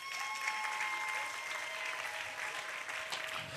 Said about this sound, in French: Ça mérite encore des acclamations.